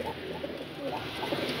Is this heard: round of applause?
no